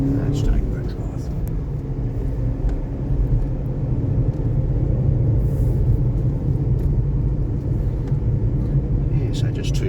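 A Renault Duster with a 1.2 petrol engine, manual gearbox and 4x4 drive cruises through suburban streets, heard from inside as a steady low engine and road rumble that holds level throughout.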